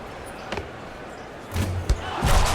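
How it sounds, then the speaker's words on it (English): A putback slam dunk in the NBA Live 19 basketball video game: a sharp thud of the dunk followed by a rising crowd roar, with a bouncing ball earlier and game commentary nearby. "Slams it home on the putback"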